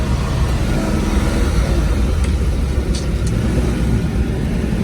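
Restored 1941 Ford pickup pulling away in first gear, its engine a steady, close, continuous rumble with road noise and no talking.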